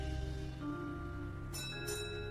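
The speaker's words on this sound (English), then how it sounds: "Oh, yes, there's the doorbell." A quiet doorbell chime sounds twice, with soft ringing tones fading into the background.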